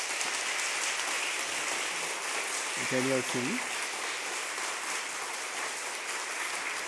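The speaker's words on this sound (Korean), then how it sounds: "우리 힘차게 박수해 주시기 바랍니다" Church congregation applauding during a Korean Presbyterian Sunday worship service in Detroit, continuous even clapping filling the room, with a short spoken name heard over it midway.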